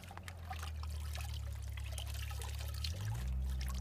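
Water pours and trickles steadily onto a Mongoose bicycle as it is scrubbed clean, a continuous close splashing that swells slightly near the end.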